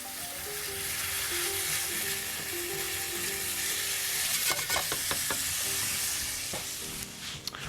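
Bacon sizzles and fries in a pan with a constant loud crackling hiss, and a few sharp scrapes and clinks of stirring break in toward the end.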